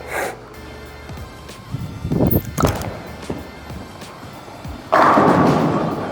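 A bowling ball thrown down a lane on a sport oil pattern: a thud at release, a rumbling roll, then a louder crash of pins near the end, with no talking.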